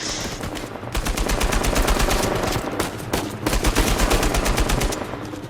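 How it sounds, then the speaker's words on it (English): Uncharted 4 game audio of sustained AK-47 automatic fire: loud, rapid rhythmic bursts with only brief pauses, filling nearly the whole stretch. "That's how quickly I went through my 40 bullets."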